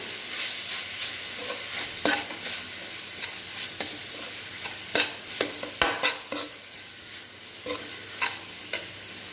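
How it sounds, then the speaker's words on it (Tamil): A spoon scrapes and stirs through mushroom gravy in a sizzling pan as turmeric and red chilli powder are mixed in, with irregular clinks and scrapes over a soft steady frying hiss, no voices. "இதை நல்லா மிக்ஸ் பண்ணி விட்டுக்கலாம்"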